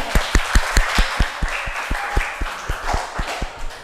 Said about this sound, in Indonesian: tepuk tangan dulu buat Fali